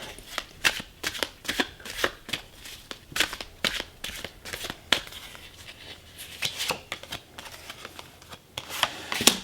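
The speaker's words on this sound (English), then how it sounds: "we're going to pull some tarot cards for your past" Tarot cards are shuffled by hand in quick, crisp riffles and flutters, close up and fairly quiet, with brief pauses between bursts.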